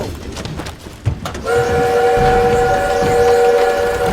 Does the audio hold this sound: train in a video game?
yes